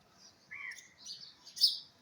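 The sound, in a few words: birds chirping in the morning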